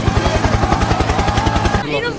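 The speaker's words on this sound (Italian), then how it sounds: "Elicottero. Helicopter, helicopter." A helicopter passes overhead at an outdoor gathering, its loud rapid rhythmic blade chop pounding steadily before dropping off sharply near the end.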